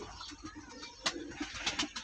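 A pigeon sits on a perch in a breeding loft and coos softly in low, throaty pulses, with other birds and faint loft noises around it.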